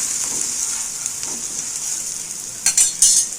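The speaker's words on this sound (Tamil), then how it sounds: "திருப்பி போட்டுடலாம்." A curry leaves adai dosa sizzles on a hot pan with a bright, steady hiss, then is flipped with a few quick scraping clinks of the spatula near the end.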